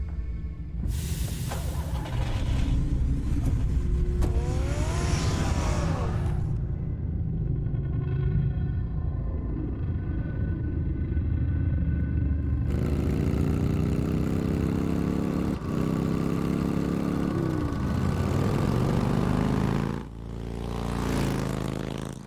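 Batmobile engine in a Batman game fires up and revs with loud throaty bursts, drops to a lighter idle hum, then roars back into sustained heavy revving before cutting off.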